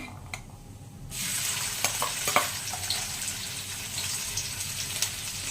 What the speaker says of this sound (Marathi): हा जो बारीक कापलेला कांदा आहे तो मी आता ह्याच्यात टाकते